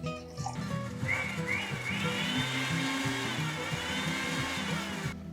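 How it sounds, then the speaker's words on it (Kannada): A kitchen blender whirs steadily, blending banana with milk for ice cream, a dense continuous motor drone with a grinding, liquid churn that runs throughout without a break. "ಇದನ್ನು ಲಿಕ್ವಿಫೈ ಮಾಡೋಕ್ಕೆ ಸ್ವಲ್ಪ ಹಾಲು ಹಾಕಿ ಇದನ್ನು ಬ್ಲೆಂಡ್ ಮಾಡ್ಕೋಬೇಕು"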